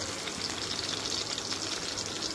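Pomfret fries in a green chutney gravy, giving a steady close, bubbly sizzle and crackle that runs evenly throughout with no speech.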